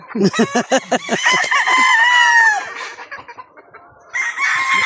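Chickens on a Philippine farm raising breeding birds, a rooster crowing loudly and close amid repeated clucks and squawks, with a second crow rising at the end.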